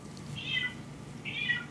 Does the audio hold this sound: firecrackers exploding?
no